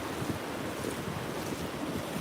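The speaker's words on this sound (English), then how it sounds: "the sound of these waves" Choppy ocean surf on a windy day rolls in as a steady broadband wash, moderately loud and continuous, with wind buffeting the microphone and no voices.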